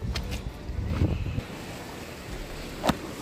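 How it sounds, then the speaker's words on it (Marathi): Sea waves surging and foaming against the stone walls of a coastal sea fort, a broad rumbling wash with wind buffeting the microphone, one sharper splash near the end, no voices. "तिकडे बघा लाटा कशा फेसाळत आहेत, किल्ल्याच्या भिंतीला आदळत आहेत"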